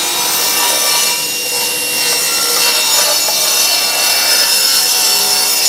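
Table saw cutting timber with a dust extractor running, a loud continuous whirring roar with a steady grinding hiss that holds level throughout.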